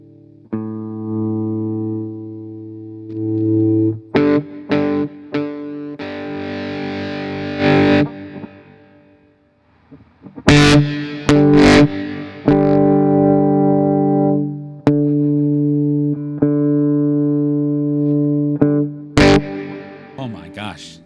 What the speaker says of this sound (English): So that's the crunch distortion